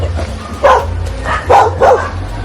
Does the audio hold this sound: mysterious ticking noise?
no